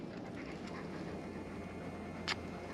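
A dog panting softly and steadily in a quiet outdoor setting, faint and close, with a brief sharper sound near the end.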